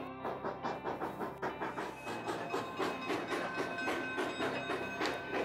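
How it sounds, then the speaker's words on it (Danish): Historic Durango to Silverton train rolling into town in the Rocky Mountains, with a steady rhythmic clickety-clack of wheels over rail joints and a hissing, chuffing steam undertone, fairly close and continuous. "når det imponerende tog tøffer ind i byen"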